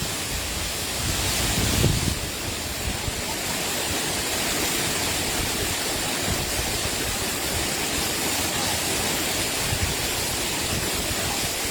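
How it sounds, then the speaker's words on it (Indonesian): The Efrata waterfall on Samosir, Indonesia, roars in a continuous, dense wash of rushing water, loud and steady throughout with no pauses. "Lokasi air terjun Ephrata"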